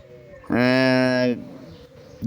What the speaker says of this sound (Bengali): সুন্দর সুন্দর ঘুঘু আছে